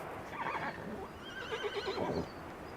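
Horses at an alpine summer pasture whinny in two shrill, wavering neighs close by, one early and one later, over faint hoof clops and outdoor background noise.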